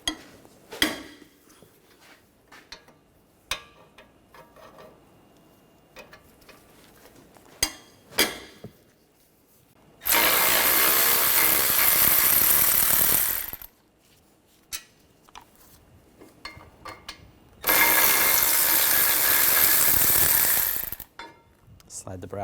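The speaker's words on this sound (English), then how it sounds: "Using an 18mm socket, take these two caliper bracket bolts out." A socket wrench fitted with an 18mm socket ratchets out caliper bracket bolts on the front brakes of a 2013–2019 Ford Escape. Sparse clicks and clanks give way to two long, loud bursts of rapid ratcheting, close up, with no talking.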